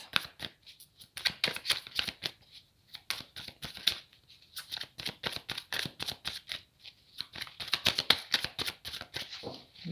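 Tarot cards being shuffled in repeated riffling bursts, close and crisp, with brief pauses between rounds and no talking.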